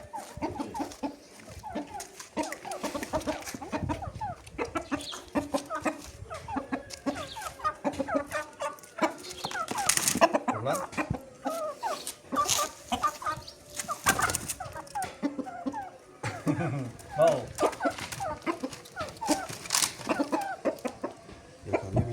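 Indonesian Bangkok × Brazilian crossbreed roosters cluck and chatter in repeated bursts throughout, with a few louder squawks, close by and continuing without pause.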